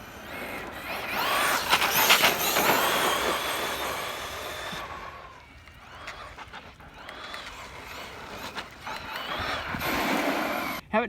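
An Arrma Kraton EXB RC car drives at a modest distance, its motor whining and rising and falling as it speeds up and slows, fairly quiet throughout with a brief lull in the middle.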